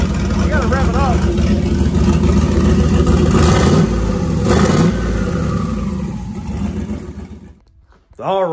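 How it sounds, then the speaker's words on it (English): A van's LS V8 engine revs hard and loud in the garage, pitch climbing and falling through repeated throttle blips before it cuts off near the end. "That's basically all I'm supposed to do here, but you gotta rev it up."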